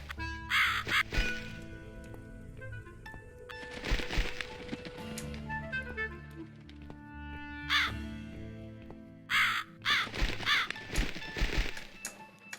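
In The Cat Lady video game, a bird gives several rounds of harsh caws, loud and close, separated by quieter stretches of droning background music.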